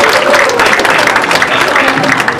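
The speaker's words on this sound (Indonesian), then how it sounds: "Jadi tepuk tangan" An audience at a citizenship and immigration information session breaks into sustained, loud applause, a dense wash of many hands clapping with crowd murmur mixed in.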